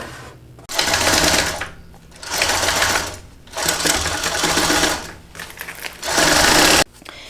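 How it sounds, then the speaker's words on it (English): A sewing machine stitches the sides and bottom of a Shamballa Brunella bag in three loud, sustained runs broken by short pauses, ending abruptly. "we're going to sew along the sides and then the bottom"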